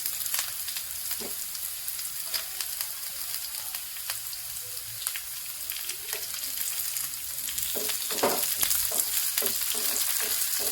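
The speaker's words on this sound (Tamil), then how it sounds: "ஆனியன் டீப்பாக ட்ரை ஆனதுக்கப்புறம் காஞ்ச மிளகாய் சேர்த்துக்கணும்." Onion frying deeply with dried red chillies added in oil for a South Indian spinach keerai kadayal, a steady close sizzle and crackle with occasional stirring scrapes, growing slightly louder toward the end.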